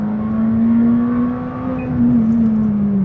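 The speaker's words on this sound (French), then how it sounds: "On va faire déjà une première accélération où il y a 2 virages." A McLaren 600LT sports car's engine pulls hard under full acceleration, a loud, steady low drone rising slightly in pitch over about three seconds with no one speaking.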